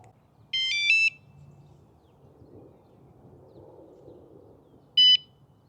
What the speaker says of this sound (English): A solid beep, then 2 beeps.